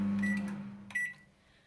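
An LG charcoal convection microwave oven (MJ2886BFUM) starts quick cooking at full power with a short beep, then a steady low hum runs while a second beep sounds, nearby and fairly clear.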